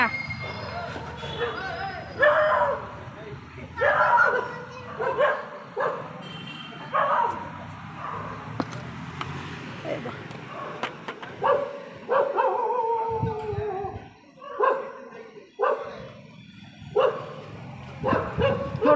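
A dog barks repeatedly in short yips and whines, mixed with people talking nearby.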